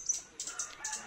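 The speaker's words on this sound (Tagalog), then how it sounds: "Naririnig niyo po yung ibon." Birds in a shaded garden feeding on leftover ripe rambutan, giving a few short, bright calls in separate bursts at close to moderate distance, with no talking.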